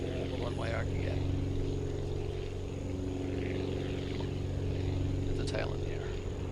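A propeller aircraft takes off heavy in the building game Aviassembly, its engine a steady loud drone with a constant hum throughout, while a person talks over it at times.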